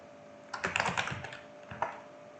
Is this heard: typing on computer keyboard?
yes